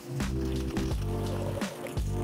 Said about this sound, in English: The first step, you want to empty out your foam cannon and rinse it out with water.